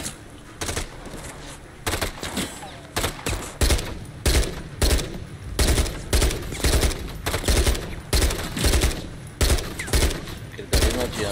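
Rapid bursts of gunfire crack out again and again in the Call of Duty: Modern Warfare III campaign, loud and close with rhythmic volleys and short gaps, and a voice is faintly audible underneath.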